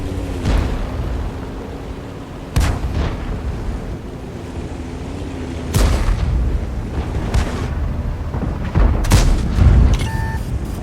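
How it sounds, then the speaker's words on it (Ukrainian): Tank cannon shots in World of Tanks, several sharp loud booms spaced a few seconds apart, each a sudden blast that rolls off over a low engine rumble and battle ambience. "буду пробувати їх трохи, по ним трохи постріляти"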